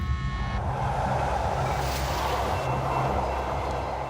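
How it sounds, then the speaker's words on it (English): A steady, continuous rumble and rush of a train rolling along tracks, broadband and unbroken, fairly loud and close. "these monitors showing supposedly live shots of actual trains from different tracks all around the California area"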